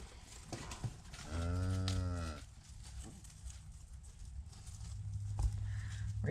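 Calves and cattle moo on a farm, one long, loud, drawn-out moo in the middle and lower bellows near the end, amid faint shuffling.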